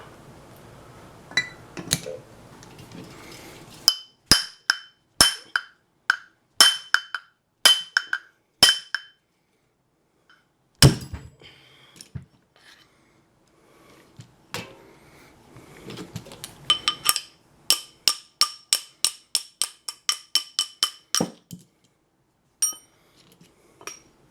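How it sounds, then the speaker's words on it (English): A bearing being tapped out of a 1994 Saab 9000 Mark IV ABS motor, sharp metallic clinks struck in uneven series with pauses, then a fast run of closely spaced taps, near and alone. "I should be able to tap that bearing out"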